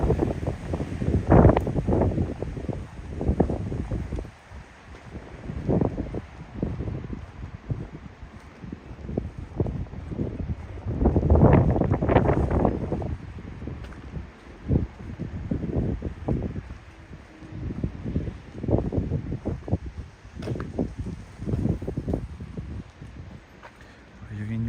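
Gusty wind buffeting the microphone on a morning walk through Tokyo's Futakotamagawa and Todoroki Ravine area, rumbling in uneven bursts under a person talking.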